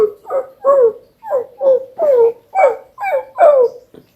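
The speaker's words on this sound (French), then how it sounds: "Oh, arrêtez d'aboyer là." Puppies and a dog barking in a run of about eight short yelping barks at a steady pace, fairly loud and close, with whimpery puppy tones mixed in and no talking over them.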